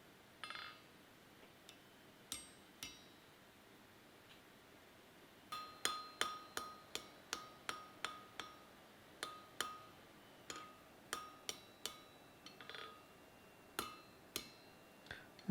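Hammer blows ring out on hot iron as Viking tongs are forged, a few scattered strikes at first, then a steady run of sharp, clanging hits with short pauses between them, close by and with no voices.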